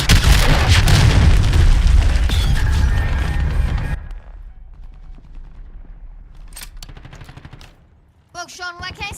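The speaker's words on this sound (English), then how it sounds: "Hostiles launched a cruise missile." Cruise missile strike in the video game Call of Duty MW3: about four seconds of loud booming explosions and gunfire-like crackle, then quieter game sounds with brief voice bursts.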